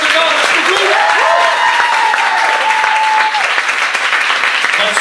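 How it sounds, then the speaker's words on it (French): A studio audience claps in a dense, steady burst that runs through the whole stretch, with a voice talking briefly over it. "Merci, on applaudit Joker"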